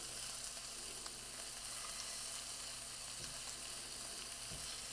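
Beef strips for fajita wraps fry in a pan over medium heat, giving a steady, close crackling sizzle throughout with a couple of soft clinks or scrapes near the end.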